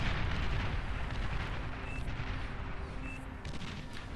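Bombs bursting in the Beyond All Reason strategy game during an 8v8 match, a dense, continuous rumble of overlapping explosions at steady loudness with no talk.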